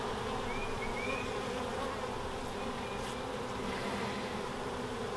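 Honeybees hum in a dense, steady swarm drone around an open new hive during a frame inspection, the buzzing continuous and close with no voices.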